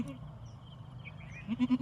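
A goat bleats in a short run of quavering calls near the end, close and fairly loud, after a quiet stretch with faint background voices.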